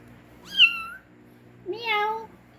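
A cat gives two clear meows, close and loud, about a second apart with quiet between them, in a household setting.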